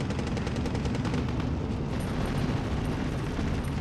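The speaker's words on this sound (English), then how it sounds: "Panzer IV getting nailed by artillery here" Artillery explosions pounding a Panzer IV tank in the Steel Division 2 war game: a loud, continuous barrage of booming blasts and rumbling impacts with crackling gunfire layered throughout.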